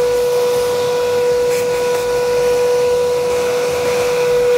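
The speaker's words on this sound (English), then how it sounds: "To clean our lathe, we will use vacuum cleaner." Vacuum cleaner clearing sawdust from a woodworking lathe in a workshop making wooden jump rope handles, a steady loud whirring drone with a constant hiss running unbroken throughout, no talk.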